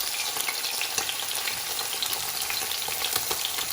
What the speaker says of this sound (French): Voilà, l'huile est chaude, on met notre chevreuse à colorer.